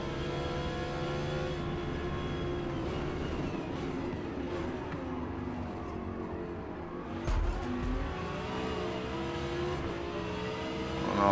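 An Audi R8 GT race car in Forza Motorsport drones around Yas Marina, its engine a continuous loud, harmonic roar rising and falling through gears, with a brief rumble burst midway and other cars faintly nearby.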